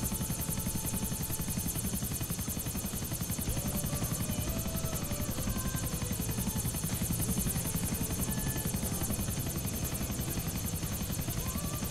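Helicopter in Grand Theft Auto IV flying steadily, its rotor and engine a loud, continuous buzzing drone throughout with no breaks and no talk over it.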